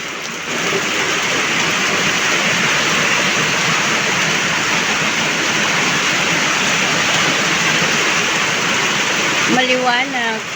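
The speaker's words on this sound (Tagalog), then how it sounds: "Biglang lumakas ang ulan." Heavy rain pouring down in a rural provincial setting during a typhoon, a loud, dense and constant roar of water that runs steadily throughout, with a brief voice heard right at the end.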